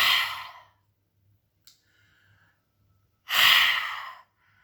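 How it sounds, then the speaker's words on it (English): Someone breathes like a dragon with the tongue stuck out, giving two forceful, breathy exhales a few seconds apart, close and loud, with near silence and a faint click between them. "Ask them to stick their tongue out and breathe like a dragon, like you're breathing fire."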